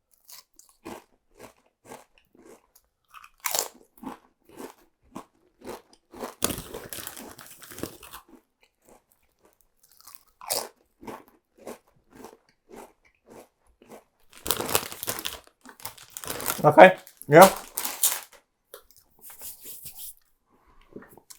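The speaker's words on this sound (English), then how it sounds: "Good crunch." Flaming hot crisps crunched and chewed close up, a series of sharp crackling bites and chewing bursts separated by quiet gaps, with a few brief spoken words.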